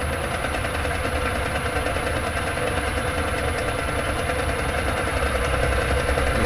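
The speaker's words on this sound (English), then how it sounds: "Excuse the noise, it's gearbox." A lathe gearbox runs steadily with a continuous mechanical whir and hum, a dense, even noise holding at the same loudness for the whole stretch with no talk over it.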